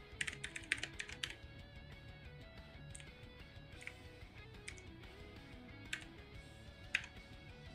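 Computer keyboard typed on in bursts of quick, light key taps with short pauses between runs, faint and close, scattered sharper clicks standing out, no talking.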